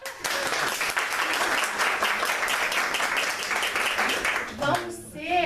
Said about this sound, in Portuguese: Palmas de novo?